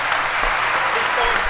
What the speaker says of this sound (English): So please give him the biggest round of applause.